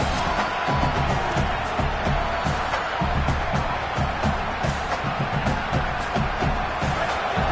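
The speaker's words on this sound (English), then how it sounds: "Listen to this crowd just shaking the girders of this place" Dense, roaring stadium crowd noise at a Florida vs UCLA game, a constant wall of cheering and shouting that stays loud throughout.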